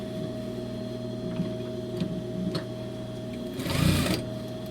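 Home sewing machine stitching a line through fabric as a tailor works, a steady mechanical whir with a low hum and faint ticking, growing louder in a brief burst near the end; no voices.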